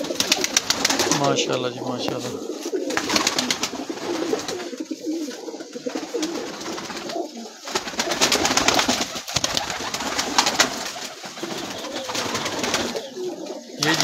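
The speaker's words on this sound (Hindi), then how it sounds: "कुछ नीचे भी कबूतर बैठे हुए हैं भाई" Pigeons coo steadily and close by on a rooftop pigeon setup in Kala Bagh, their soft repeated calls continuing under a man's speech.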